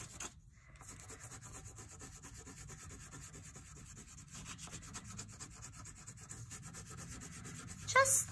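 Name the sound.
colouring on paper with a crayon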